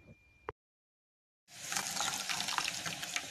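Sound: kahwa being poured into boiling milk for Kashmiri chai

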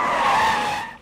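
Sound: car tires skidding as it pulls in to park

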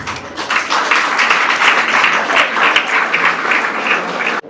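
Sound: applause for a family at a school event

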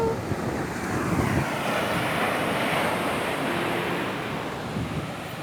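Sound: seashore waves

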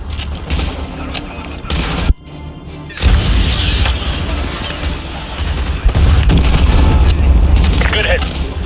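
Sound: AGM missile strikes exploding, from video game Call of Duty: Modern Warfare 2

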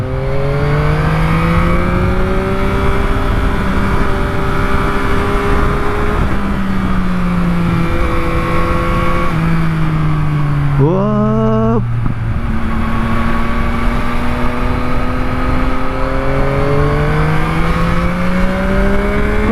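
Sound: Yamaha MT-09 motorcycle riding, engine revving

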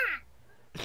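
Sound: voice imitating a crow's caw

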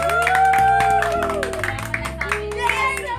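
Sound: hands clapping

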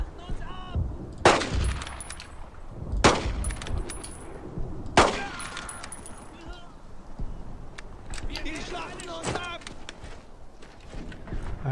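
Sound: covering gunfire in Brothers In Arms: Road To Hill 30 (video game)

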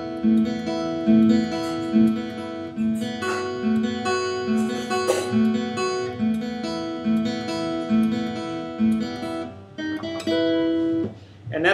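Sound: guitar melody from a song

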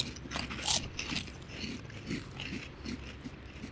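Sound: eating crunchy pork rinds (chicharrón)

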